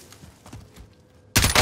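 Gunfire in Call of Duty: Warzone: faint scattered shots and rumble, then an abrupt loud burst of close firing at the end.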